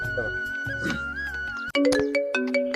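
A mobile phone ringtone plays loudly and close, a melodic tune of repeated bright notes that shifts into a faster, brighter phrase midway.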